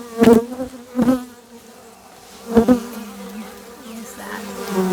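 Honey bees buzz close by at an opened hive during a hive check and feeding, several loud passing buzzes of individual bees cutting through over a quieter steady hum.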